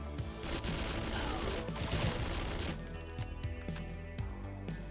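Rapid bursts of enemy gunfire sound in the video game Action Squad, dense overlapping shots and impacts fading into scattered single pops, with some background game sounds.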